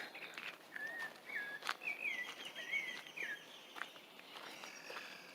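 In an ecological park at Yucalpeten near Merida, a bird gives a string of short, bright whistled chirps in close succession. Soft footsteps and outdoor ambience sit underneath.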